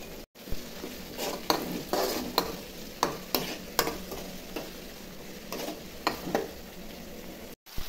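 Tomatoes and ginger paste fry in a pan, a steady close sizzle broken by repeated sharp scrapes and clicks of a spoon stirring against the metal, with no voices.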